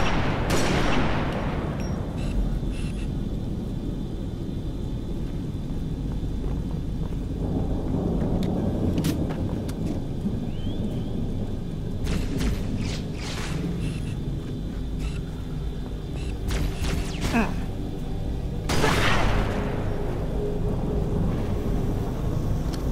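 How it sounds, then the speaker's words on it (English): A grenade goes off in a shooter game, a deep rumbling blast that rolls on under steady low battle noise with scattered crackles. A second sharp burst comes near the end. "I really didn't mean to throw a grenade"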